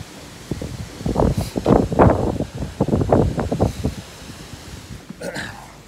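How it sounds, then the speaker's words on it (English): Outdoor wind buffets a microphone beside a parked 2006 Honda Accord LX, loud irregular rumbling gusts swelling and fading for several seconds, with a faint voice briefly near the end. "Get out of the wind for a second."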